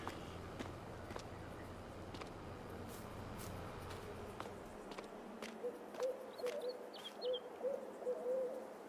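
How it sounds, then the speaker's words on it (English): Soft, low hoots from an owl in a PC video game repeat in a loose rhythm, with footsteps crunching along beforehand and a faint ambient bed. "Hooting owl."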